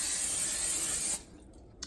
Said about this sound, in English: give that a nice light spray